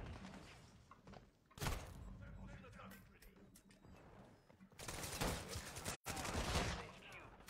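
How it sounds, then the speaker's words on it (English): Gunfire and grenade blasts in a video game, bursts of shots and heavy booms breaking through a busy background, with a person talking over the action. "I love firing random grenades."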